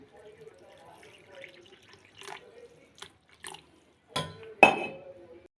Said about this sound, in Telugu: దీనిలో కూడా వాటర్ వేసుకుని పెట్టుకుందాం